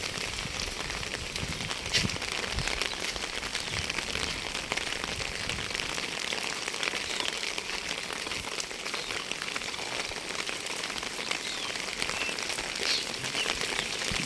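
Rain falls steadily on a village morning beside a pond, a dense, even hiss of drops continuing throughout with no voices.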